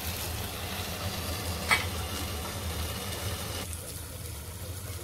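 Rawas fish frying under a lid in a pan, a steady low sizzle with faint stirring texture and one brief clink, continuous and close.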